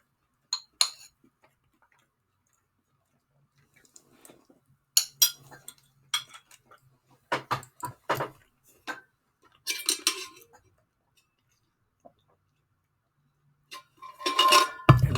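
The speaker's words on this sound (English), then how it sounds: "I'm eating homemade beans and rice" Metal cutlery clinking against a dish while someone eats homemade beans and rice, with sparse scattered taps and scrapes, close and fairly quiet, separated by silent pauses and a louder burst of clatter at the end.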